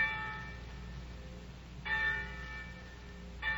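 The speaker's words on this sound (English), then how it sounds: "the winds carried you the clanging of the church bells" Church bells clang with a harmonic ring, two fresh strikes swelling out over a sustained, decaying hum.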